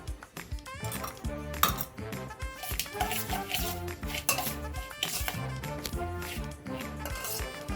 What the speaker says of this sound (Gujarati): તેમાં સૌપ્રથમ થોડું તેલ ઉમેરી અને તેને મિક્સ કરી લઈશું, જેનાથી ઢોકળામાં શાઇન આવશે